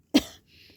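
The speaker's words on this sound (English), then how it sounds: "I have a dry cough" A single short, dry cough, sharp and close, followed by a faint breathy exhale.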